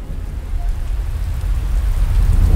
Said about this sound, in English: The most powerful storm of the season.